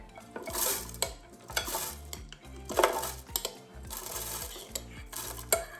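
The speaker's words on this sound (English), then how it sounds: "I'm going to take a spoon here, and I'm going to add all of this to the blender." A metal spoon scrapes and clinks against a container in repeated strokes, scooping soaked rice into a blender, with wet stirring and scraping sounds, close and steady.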